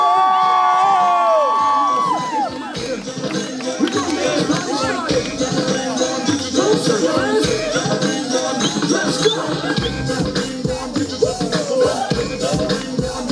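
Audience at a live event cheering and shouting, a dense crowd roar with whoops and excited voices that swells in after a brief lull and carries on steadily and loudly throughout.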